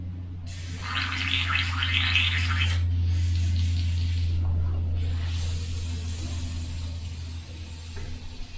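Airbrush spray gun with a 0.15 nozzle spraying black paint, a steady close hiss that is strongest early, then softer through a continuous low compressor hum, with no voices.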